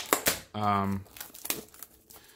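Crinkling and rustling of packaging being handled and opened as a Google Home Hub and Google Home Mini are unboxed, with a brief harmonic squeak midway and a voice speaking around it.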